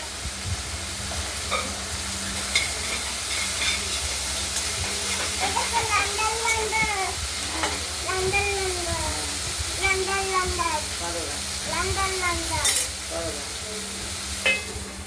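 Okra frying in a covered pan with a pinch of turmeric, a steady sizzle under intermittent stirring and clatter, while a person talks over it.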